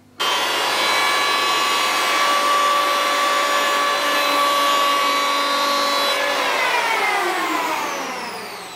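Electric hand planer with freshly sharpened blades, running alone with a loud, steady high whine and whoosh that holds level for several seconds before spinning down as the motor slows.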